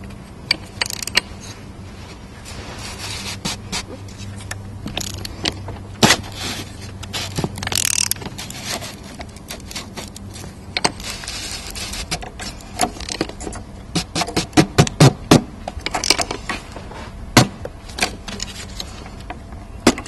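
A filter wrench tightens the diesel fuel filter on a Peugeot 206 HDi, giving irregular metallic clicks, ratcheting scrapes and knocks. They are close and intermittent, with no voices.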